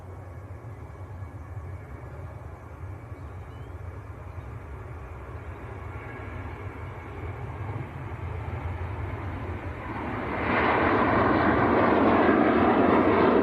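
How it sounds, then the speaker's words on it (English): A Ryanair jet bound for Milan rolls down the runway at Manchester Airport, its engine roar a steady distant rumble that swells sharply louder and brighter toward the end as take-off thrust builds, with no voices. "Ryanair to Milan,"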